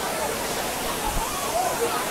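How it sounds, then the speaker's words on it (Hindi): Water pours down from above at a waterfall, a steady broadband rush that fills the whole clip, with a voice talking faintly over it. "ऊपर से पानी आ रहा है"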